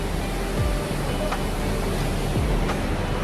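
Rushing water at Athabasca Falls, a steady broadband roar of falling water that fills the whole clip at moderate loudness, with no talking.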